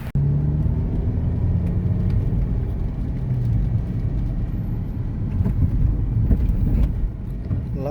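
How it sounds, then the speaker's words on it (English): Steady interior road rumble from a VW Golf Mark 5 on the move, with a continuous low engine drone and tyre noise, close and fairly loud and without pause. "Love driving the Mark 5."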